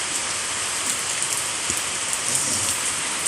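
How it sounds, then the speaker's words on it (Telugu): Heavy rain pours steadily in a village, a dense, constant hiss of drops hitting surfaces, loud and unbroken with no voices. "ఈరోజు ఫుల్ వర్షం పడుతుంది ఫ్రెండ్స్ చూడండి"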